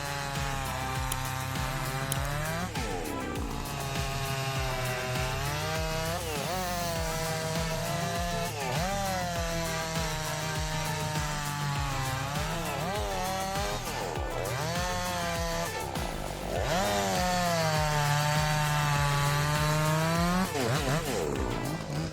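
A chainsaw roars continuously, its pitch rising and falling as the engine bogs and revs while it bites through wood, loud and near.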